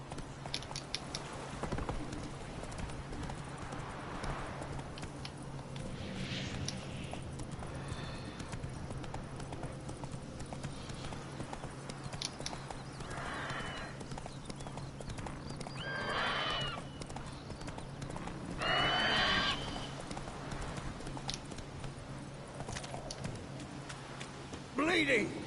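The horse Roach gallops in The Witcher 3, with a run of hoof clip-clops and occasional whinnies. A voice speaks over it, and the sound stays moderately quiet under game noise.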